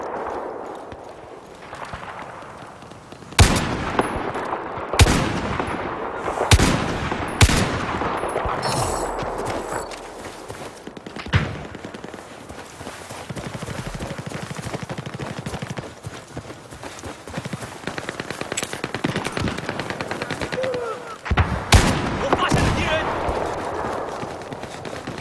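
Machine gun fire in the Battlefield 4 video game comes as loud, sharp bursts of rapid shots with quieter gaps of battle noise between them, and a voice talks at times.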